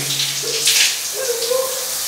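Steady hiss of water streaming in a home shower, close and continuous, with faint tonal sounds briefly over the spray.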